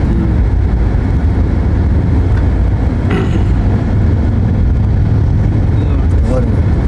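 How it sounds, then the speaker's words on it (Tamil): Harley-Davidson motorcycles riding past in a group, a loud continuous low engine rumble and roar that stays close throughout, with people talking over it. "கரெக்டாக எல்லாம் ஆர்லி டேவிட்சன் வருது பாருங்க"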